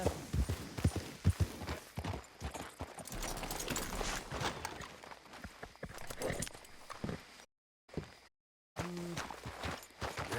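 Horse hooves clip-clop in Red Dead Redemption 2, a fairly close run of uneven hoof beats mixed with other game noise, followed by brief silent gaps near the end.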